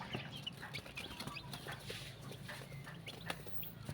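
Newly hatched chicks with a mother hen in a brooding pen, faint soft clucking and scattered high peeps and rustling throughout, quiet and close with no talk.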